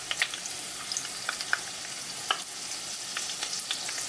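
Battered daylily bud frying in hot butter and oil over high heat, a steady close crackle with scattered sharp pops and spits throughout, no voices.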